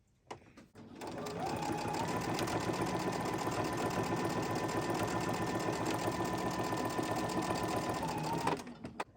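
Sewing machine running steadily, stitching a 1/4 inch seam on a quilted table runner, a continuous close mechanical whir for about eight seconds with a brief start and stop at either end.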